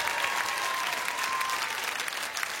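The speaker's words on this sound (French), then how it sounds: "applaudissez-le très fort" A French TV show studio audience applauds warmly, many hands clapping in a dense, continuous roar that holds steady from start to finish, with no voices over it.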